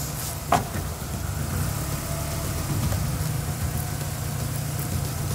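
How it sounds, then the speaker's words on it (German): A Mercedes-Benz W124 T-Model estate sits with its engine idling steadily after starting on the first key turn, a low continuous hum holding even throughout with a brief knock near the start. "Anlassen, anspringen ging sofort auf den ersten Schlüsseldrehung"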